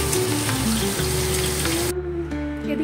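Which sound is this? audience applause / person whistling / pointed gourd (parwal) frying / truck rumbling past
pointed gourd (parwal) frying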